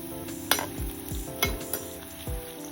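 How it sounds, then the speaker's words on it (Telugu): Coriander, cumin, mustard and fenugreek seeds fry in a little oil in a kadai, a steady close sizzle broken by a few sharp spoon scrapes and taps against the pan. "కొద్దిగా ఆయిల్ వేసి 2 స్పూన్ల ధనియాలు, 2 స్పూన్ల జీలకర్ర, 2 స్పూన్ల ఆవాలు, 1/2 స్పూన్ మెంతులు వేసి కొద్దిగా వేగనివ్వాలి"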